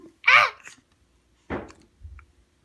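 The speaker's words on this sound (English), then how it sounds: "Oh, you got the hiccups now?" A baby hiccups indoors, a few short, separated vocal hiccups that come at uneven intervals with quiet gaps between them, close and fairly loud.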